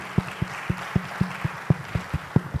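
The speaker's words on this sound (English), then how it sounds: "join me in welcoming with a round of applause Mr. Adetoyi Ezeikel Olabode" A few people clap in a steady, fairly regular rhythm to welcome a speaker at a university business event, each clap distinct over a quiet background murmur.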